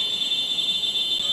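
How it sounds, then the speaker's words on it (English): A high-pitched electronic buzzer tone on a microcontroller assistive device sounds continuously and steadily, fairly loud and close, with a faint low rumble beneath it. "LED blinks and buzzer produces the sound"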